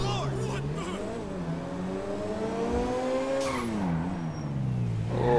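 A Grand Theft Auto V sports car engine revs and climbs in pitch as it accelerates, steady and close, with a brief dip and surge near the end.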